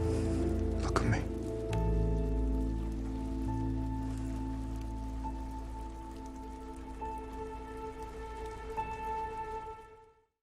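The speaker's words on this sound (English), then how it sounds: "In this scene with Bruce and Selena, the rain goes quieter when the two get closer, putting more focus on the two" Rain patters in a film scene from The Batman, dense at first, then thinning and growing quieter, with a low musical tone and brief dialogue underneath before it fades out.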